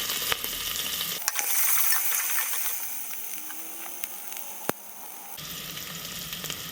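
Onion and coriander sizzle and fry in a pan for a spicy brinjal and chickpea curry, a steady close crackle with a brief quieter stretch and a few stirring clicks, no voices.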